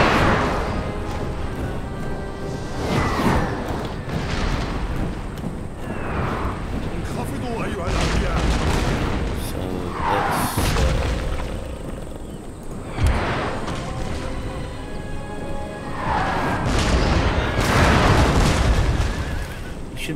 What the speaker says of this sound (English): Just let cannon fire do its job.